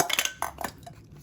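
Metal camping cook kit pots nested together knock and clink against each other in a few quick, close metallic rattles over about a second.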